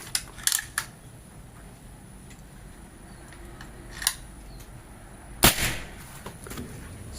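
A folding Ataman PCP air rifle with a Predator Monel 50 cm Yumaja barrel at 4000 psi fires a single sharp crack, close and fairly quiet, among a few small clicks against a low background hum.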